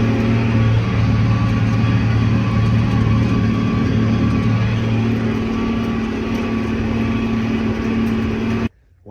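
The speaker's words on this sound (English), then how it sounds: "Well guys, we got a tractor stuck now." A tractor engine running while stuck in mud, a loud steady low drone with a constant hum that holds throughout before cutting off near the end.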